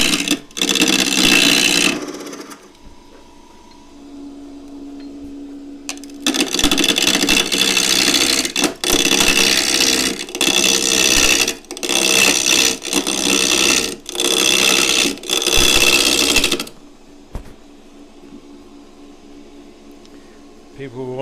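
Punky, partly soft box elder spins on a wood lathe as it is turned into a lidded box. Loud bursts of cutting noise come in uneven stretches and are separated by quiet pauses where the tool comes off the wood.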